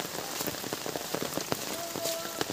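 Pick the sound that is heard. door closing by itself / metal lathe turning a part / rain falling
rain falling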